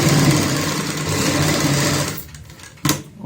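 A sewing machine stitches a baby frock, running in a steady close whir for about two seconds, then slowing and stopping before a short final burst.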